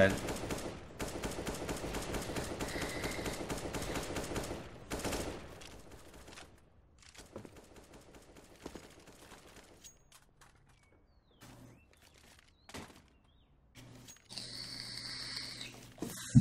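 Rapid bursts of auto-shotgun fire in a Counter-Strike match on the Cobblestone map, loud repeated blasts in dense volleys, then sparser shots and game sounds, with a commentator talking over the action.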